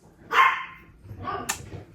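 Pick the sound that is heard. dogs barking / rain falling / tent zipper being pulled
dogs barking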